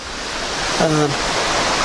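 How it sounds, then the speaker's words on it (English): Steady rushing water of a small creek near Gardners Falls in the Sunshine Coast Hinterland, close and continuous, with a brief spoken voice over it partway through. "As you can hear in the background, the water is already next to me"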